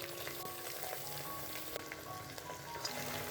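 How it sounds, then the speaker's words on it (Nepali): Mutton sizzling and frying over a low flame in a pan with browned onions, a steady, even crackle and hiss that runs continuously at close range with no talking. "मासु राखेर पनि हामीले लो फ्लेममै भुट्नु पर्दछ।"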